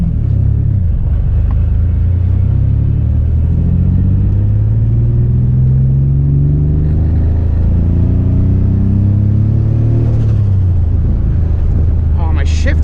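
A turbocharged, built Nissan G35 with a slipping clutch revs on race day, its engine note rising and falling through several long sweeping pulls under heavy wind buffeting, loud and close.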